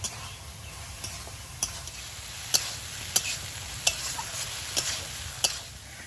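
Dried loitta (Bombay duck) shutki stir-fried in spice paste in a pan, with a steady low sizzle and sharp spatula scrapes and taps at irregular intervals, close and alone.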